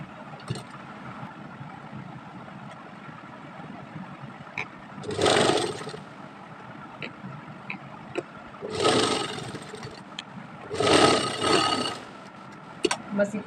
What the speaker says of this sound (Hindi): अब हम यहाँ से सिलाई लगा लेंगे